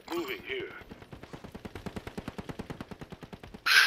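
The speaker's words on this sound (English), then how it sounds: "That LMG spray is just fucking nutty" Rapid light machine gun fire from a first-person shooter video game, a steady stream of about twenty-five sharp, evenly spaced shots close up, following a burst of louder noise at the start and ending with a loud crash.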